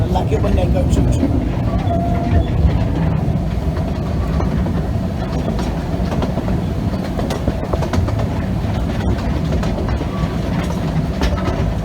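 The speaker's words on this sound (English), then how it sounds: "It went choo-choo. I like it when they go choo-choo." A train rumbles past close by, its wheels clattering steadily over the rails for the whole stretch, with a low continuous roar underneath.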